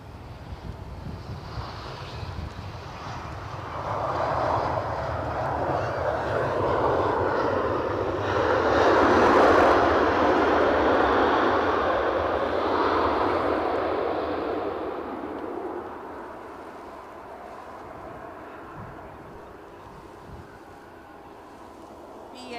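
Aegean airliner approaching Edinburgh Airport, a broad jet engine roar that swells and peaks mid-pass before slowly fading, heard outdoors with wind buffeting the microphone.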